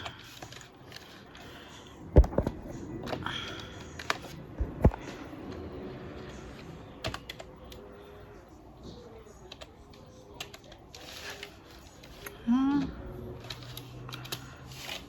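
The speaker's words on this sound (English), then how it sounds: "I'm typing with one hand" One-handed typing on a computer keyboard while packing orders, soft irregular key clicks spread across the clip, fairly quiet, with a few sharper knocks and brief talk.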